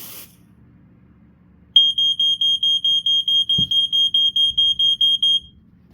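A vintage Norelco Dicon 350 smoke alarm set off by a spray test, giving a rapid run of loud, piercing, high beeps in a steady rhythm for about four seconds before cutting off, with a brief thump partway through.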